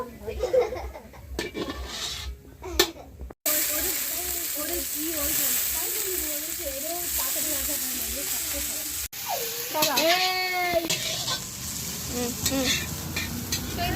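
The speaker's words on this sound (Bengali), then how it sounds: "এবার আস্তে আস্তে সবকিছু ভেজে নেব" Carrots, beans and mixed vegetables sizzle in a hot pan as they are stir-fried, a steady frying hiss that starts after a brief pause, with people talking and laughing over it.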